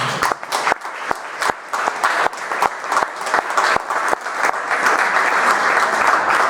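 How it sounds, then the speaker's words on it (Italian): An audience welcomes a speaker with applause: a few sharp, separate claps at first that quickly build into loud, dense, continuous clapping from a large crowd. "gli facciamo un bel applauso"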